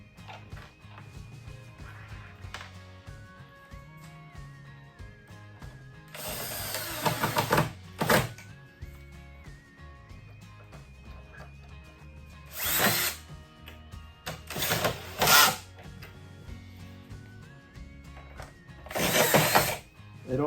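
Bursts of a cordless power drill driving screws into a Harbor Freight metal work bench during assembly, several short whirring runs separated by quiet pauses with faint clicks and handling noises.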